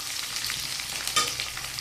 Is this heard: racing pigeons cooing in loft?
no